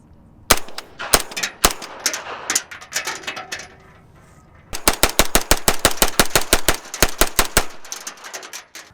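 Rapid gunfire from a Palmetto State Armory ARV 9mm carbine at a range, close and loud, with a few spaced single shots followed by a fast string of about fifteen rounds, then a mechanical clack as the bolt locks open.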